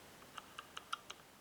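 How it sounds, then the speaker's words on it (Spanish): A La Gard 2270 safe combination lock being picked gives five small, quiet metallic clicks in an even rhythm, close-up, with no talk. "Va clic, clic, clic y de repente hay como una pausa"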